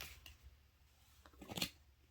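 Playing cards are shuffled in short papery riffles and soft flicks, with one denser burst near the end, faint and close with no talking.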